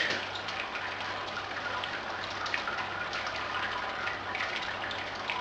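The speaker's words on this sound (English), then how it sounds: "we'll lift the malt pipe. Get this draining." Wort drains steadily from a lifted malt pipe in a Brewzilla all-grain brewing system, a continuous splashing trickle of liquid into the vessel below with a low electrical hum underneath.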